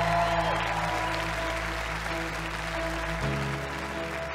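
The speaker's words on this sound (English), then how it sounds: "A big round of applause, please, for Simon." Crowd applause in a talent show audition hall fills the background under loud sustained music tones with a steady low hum, the clapping fairly diffuse and continuous.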